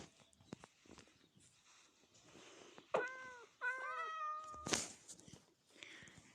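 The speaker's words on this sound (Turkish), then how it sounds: "Bakın burada da kedilerim var." Several Minecraft cats meow in turn, a few drawn-out cries close together, with soft footsteps and light shuffling underneath and a sharp hiss-like burst near the end.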